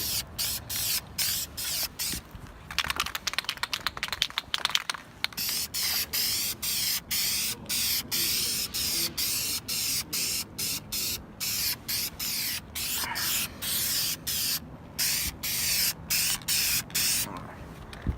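Spray paint hisses in repeated close bursts as a car engine part, apparently near the manifold, gets a final coat. Some bursts are long and some short, with brief gaps between them, and a voice can be heard faintly at times.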